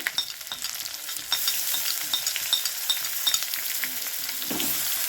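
Cumin, ginger paste, turmeric and salt sauté with potato in a hot pan, a steady bright sizzle broken by repeated scraping stirs of a spoon, close and fairly loud.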